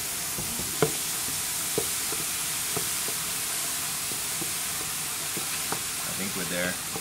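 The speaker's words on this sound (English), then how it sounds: "All right, keep stirring." A hot mixture stirred in a metal pot with a wooden spoon, giving a steady sizzling, steaming hiss throughout with faint scrapes and small knocks at irregular intervals.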